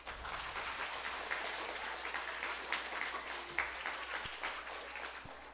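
Applause without shouting from an audience at a municipal council chamber session, a steady, fairly quiet patter of many hands clapping throughout, with no cheers or voices rising above it.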